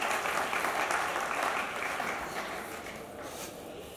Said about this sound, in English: Once again, applause for Mr.